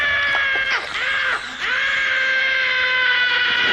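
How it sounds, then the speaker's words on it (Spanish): A long, piercing, wavering scream from the 1992 horror film Braindead rings out loud and alone, its pitch sliding and breaking before holding steady to the end. "Y con un grito épico que se escucha en todo el zoológico,"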